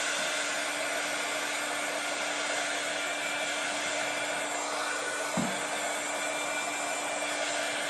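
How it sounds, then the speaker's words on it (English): A heat gun blows steadily and continuously over a custom-painted basketball, a loud, even whooshing hum with no talk, and a single brief knock partway through. "So I'm about to go in with the heat gun."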